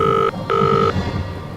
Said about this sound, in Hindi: उसका टेलीफोन बजने लगा।